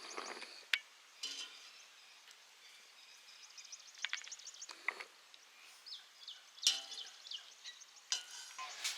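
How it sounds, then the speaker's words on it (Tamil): Ingredients for a homemade herbal hair-growth oil fry in hot oil, giving a faint, quiet crackle broken by irregular sharper pops and sputters. "பொரிஞ்சிருச்சு, நல்லா பொரிஞ்சிருச்சு"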